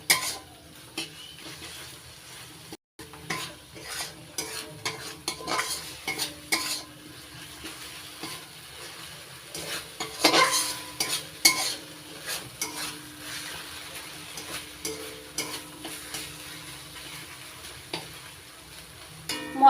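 Hilsa fish stir-fried with spices and poppy seed on a low flame, a gentle ongoing sizzle with repeated scraping and clinking of a spatula against the pan, close and without voices.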